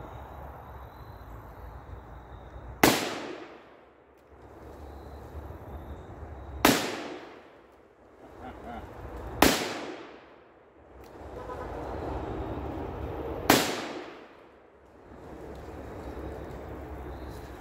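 Four loud, sharp Taurus Model 44 .44 Magnum revolver shots ring out outdoors, evenly spaced a few seconds apart, each followed by a short decaying echo over faint background noise.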